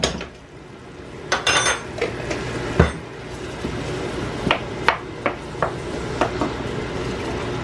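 Minced garlic being stirred in a pan, heard as a run of sharp metallic utensil clinks and taps against cookware at an irregular rhythm, fairly close and clear over a low kitchen background.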